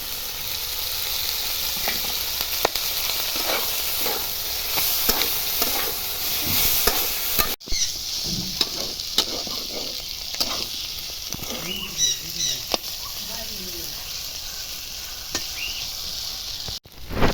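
Chili and onion paste frying in mustard oil in a pan, a loud, dense sizzle with spatula scrapes and stirring clatter, briefly cutting out partway through.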